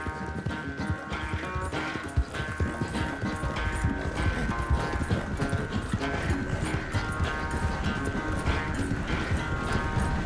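Galloping horse hooves in Red Dead Redemption 2 beat a fast, steady clip-clop close by, running continuously under a droning musical score.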